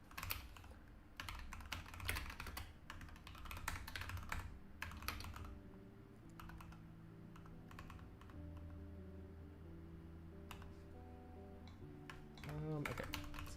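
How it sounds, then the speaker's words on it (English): Steady typing on a computer keyboard, close and fairly quiet, with bursts of rapid key clicks separated by brief pauses over a soft hum and faint tones. "So keyboard in the background"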